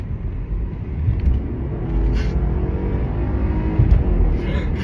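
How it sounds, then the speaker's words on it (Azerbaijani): A BMW C30 cruises on a test drive in comfort mode, giving a steady, close low engine and road rumble inside the cabin with faint occasional clicks and no speech. "Deməli BMW C30'da çıxmışıq test sürüşünə."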